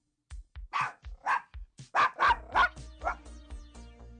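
A small Chihuahua barks in a run of about a dozen sharp, close yaps, first spaced out and then quicker and louder toward the end, with no talking.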